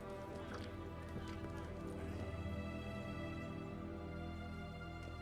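Horse hooves clip-clop in The Witcher 3 video game, a steady run of hoofbeats under dense layered game music and ambience, with no one speaking.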